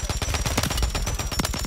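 Dense, rapid automatic gunfire in a Call of Duty match, loud and continuous with quick overlapping shots filling the whole moment.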